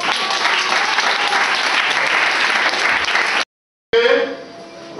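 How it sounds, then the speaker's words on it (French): A church congregation applauding, dense sustained clapping that stops abruptly for a brief silence, then resumes more faintly with a voice over it. "On acclame le Seigneur."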